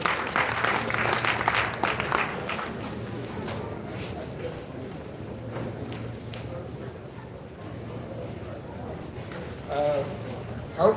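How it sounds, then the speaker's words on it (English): An audience applauds at an induction ceremony in Owerri, Imo, a steady spread of clapping from a hall crowd with voices mixed in, fairly distant. "Let's clap for him again."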